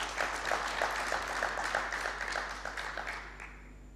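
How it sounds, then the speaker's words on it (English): An audience at a diaspora homecoming convention gives a guest a round of applause, a dense, steady wash of many hands clapping at moderate distance that gradually fades toward the end. "Give him a round of applause."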